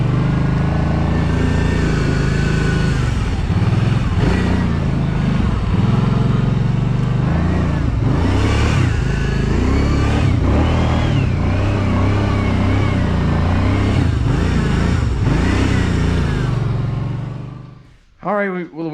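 A Kawasaki Brute Force 750 ATV being driven back after a shock test while it steers crookedly, its engine droning loud and close and rising and falling with throttle changes, with someone talking over it before it cuts off at the end.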